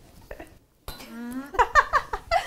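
Half-cup measuring cup scooping dry ingredients for a gingerbread house, giving several close, bright scraping clinks in quick succession after a brief rustle.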